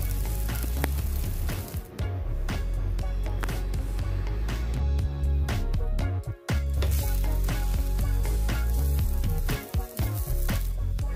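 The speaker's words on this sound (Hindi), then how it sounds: "टिक्कीज को हमें दोनों साइड से अच्छे से कुक करना है गोल्डन ब्राउन कलर आने तक" Aloo tikki made with sprouts and spinach shallow frying in oil in a nonstick pan, giving a loud, continuous crackling sizzle with a few brief dips and occasional small pops.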